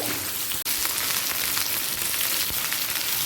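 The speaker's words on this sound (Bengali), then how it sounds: "কুমড়ো পটল কুমড়ো আর কচুটাকে এক মিনিট ভেজে নেব" Pumpkin, pointed gourd and taro frying in a pan with oil, giving a steady, close, rain-like sizzle that hardly changes, with one brief knock early on and no talking.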